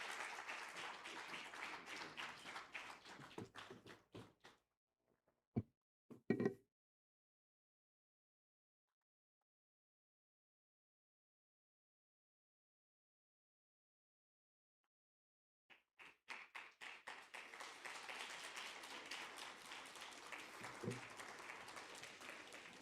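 Conference audience applauding at a Nigerian energy summit session on finance, gas and sustainability, a dense burst of clapping that fades to silence for about ten seconds, then a second loud round of applause.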